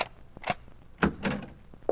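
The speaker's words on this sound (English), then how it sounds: "Open the other door, Joe." A door opened in a radio drama setting, heard as a few short knocks and thunks spread across two seconds, fairly close and moderately loud, with no talk over it.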